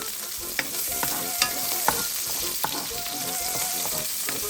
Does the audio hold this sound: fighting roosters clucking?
no